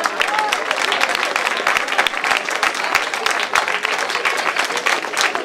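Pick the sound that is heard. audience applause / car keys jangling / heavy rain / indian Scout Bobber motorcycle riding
audience applause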